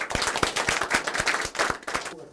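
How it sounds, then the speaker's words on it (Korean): An audience at a Democratic Party political gathering in Daegu claps in a rhythmic, fairly loud unison beat of sharp hand claps that repeats steadily, then stops abruptly. "박수 한번 쳐요."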